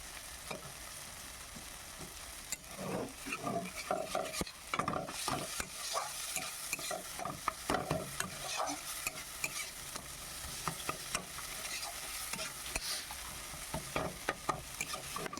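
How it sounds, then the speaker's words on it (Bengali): Spice paste for a prawn malai curry is sautéed in a pan, with repeated spoon scrapes and stirring knocks in an irregular rhythm over a soft, ongoing sizzle. "তো দেখো মশলাটা কষিয়ে নিচ্ছি ভালো"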